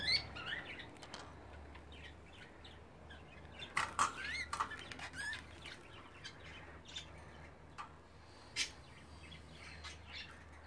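Budgerigars chirp and tweet in scattered short bursts with occasional soft wing flaps, fairly faint and close, over a quiet low hum in an indoor setting.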